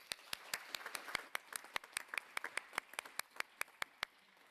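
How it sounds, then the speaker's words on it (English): An audience at a conference panel applauds with a scattered run of sharp, separate claps, quiet and somewhat distant, keeping an uneven rhythm for several seconds. "can we have another big round of applause also for our panelists?"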